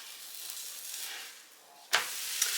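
A grilled cheese sandwich sizzles softly in a pan with a steady frying hiss, then a sudden scrape and louder crackle as it is flipped, with a brief sharp sizzle afterward.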